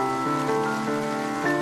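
Heavy rain pours down in a steady, dense hiss, with sustained musical tones ringing over it.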